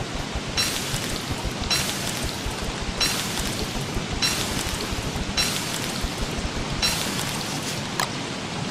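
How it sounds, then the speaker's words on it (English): Steady rain in a video game hisses evenly throughout, with regular louder swells roughly every second and a low rumbling undertone, and no voices. "Don't like the rain."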